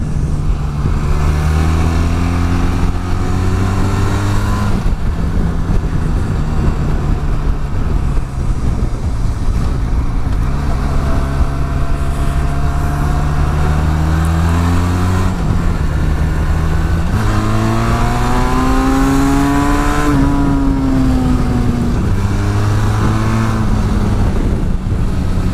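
A Benelli TRK502 motorcycle ridden through a zigzag ABS test, its engine loud and close, repeatedly revving up and dropping back in rising and falling pitch sweeps with wind rush throughout, no talking.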